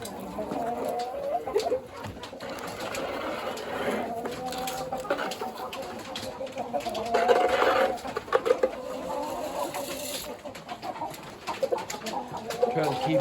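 Large roosters and other farm fowl cluck and call around a farmyard, a steady mix of close and distant bird sounds with no talking.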